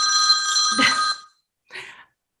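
A telephone bell rings loudly and close, a steady electronic trill lasting just over a second, then a shorter second burst after a brief pause, with no talk over it.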